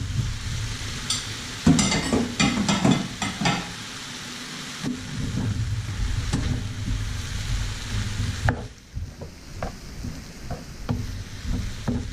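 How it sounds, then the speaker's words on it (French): Peppers and onions for piperade are stirred in a pan, a close run of scraping and clattering utensil strokes over a low sizzle, easing into quieter intermittent scrapes toward the end. "Et vous mélangez tout ça."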